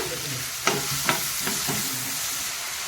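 Tomatoes being stirred in a frying pan, with a steady sizzle underneath and several distinct scraping strokes in the first half, close and clear, with no talking.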